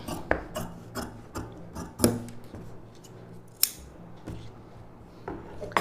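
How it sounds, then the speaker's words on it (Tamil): Scissors snip through blouse fabric to cut a sleeve joint, giving a series of crisp, close, separate cuts at uneven intervals with soft rustling of cloth between them. "இப்போ இந்த ஜாயிண்ட்டும் கட் பண்ணியாச்சு ஸ்லீவுக்கு"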